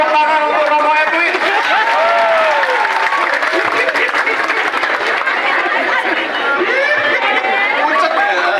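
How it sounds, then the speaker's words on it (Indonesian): Audience applause for Romo Edwin fills the room as a dense, steady wash of clapping, with crowd chatter and voices mixed throughout. "Tepuk tangan untuk Romo Edwin."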